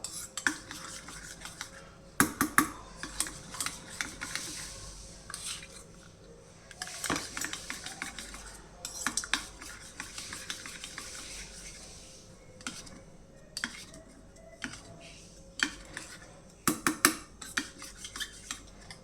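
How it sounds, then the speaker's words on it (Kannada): A spoon stirs custard powder mix for watermelon rabdi in a bowl, making intermittent clinks and scrapes against the sides, close and fairly quiet, with small bursts of clatter between softer swirling. "ಕಸ್ಟರ್ಡ್ ಪೌಡ್ರ್ ಚೆನ್ನಾಗಿ ಗಂಟಿಲ್ದಂಗೆ ಕಲಿಸ್ಕೋಬೇಕು"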